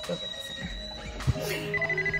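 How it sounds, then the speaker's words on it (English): A phone rings with bright, steady electronic tones over a short stretch, clear and fairly close, with a brief thump partway through. "that's my phone again"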